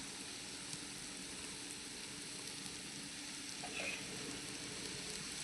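Okra fries in a pan for a catering-style fry as curry leaves are added, making a faint, steady sizzle with a small crackle partway through.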